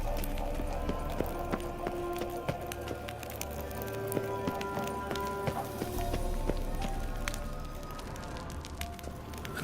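Rapid hoof clip-clop of a horse at a quick pace in the video game The Witcher 3: Wild Hunt, steady and close, over a busy background of rustling and ambient noise.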